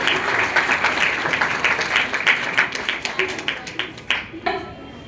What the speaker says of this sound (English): just have a big hand of applause for all the participants for the round 1